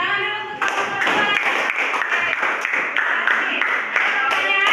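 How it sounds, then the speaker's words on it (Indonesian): Students clapping for classmates in a classroom, starting after a spoken line and continuing as brisk, close applause from a small group for several seconds. "Tepuk tangan dulu untuk teman-teman."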